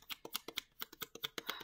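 A deck of tarot cards being shuffled by hand, heard up close as a quick, soft run of papery flicks and taps in an even rhythm, faint and with no voices.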